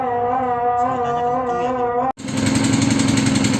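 A pump engine with a condition needing repair runs loud and steady with a harmonic drone, then cuts out briefly and returns at higher throttle with a harsher, busier roar.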